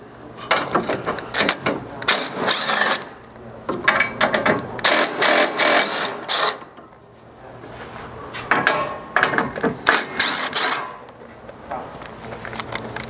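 An impact driver with a 10 mm socket removing bumper nuts on a 2nd-gen Toyota Sequoia, three loud bursts of whirring, hammering rattle with brief pauses between them, close by.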